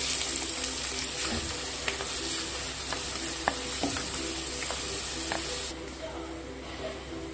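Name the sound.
onions frying in hot oil in a kadai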